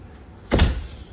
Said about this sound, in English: And then your door out to the backyard.